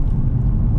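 A VW Golf 8 GTI with 245 hp accelerates, heard as a brief, loud, low engine rumble from inside the car.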